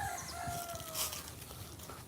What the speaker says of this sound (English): Surprised there's a rooster over there.